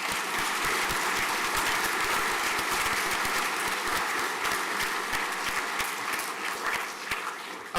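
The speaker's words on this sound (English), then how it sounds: "Round of applause" A crowd at a school prizegiving applauds steadily, many hands clapping in a sustained, even wash of sound that holds at a moderate level.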